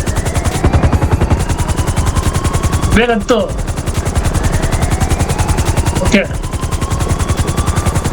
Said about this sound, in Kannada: ಹೆಲಿಕಾಪ್ಟರ್ ಡೀಸೆಲ್ ಕಮ್ಮಿನೇ ಇದೆ.